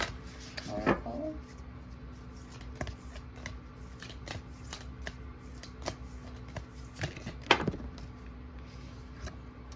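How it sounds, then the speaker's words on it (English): Vampires Oracle cards being shuffled and pulled, with soft papery riffles and slides across the clip and two sharper snaps near the start and toward the end, close and quiet with faint talk. "I'm going to pull a card from the Vampires Oracle."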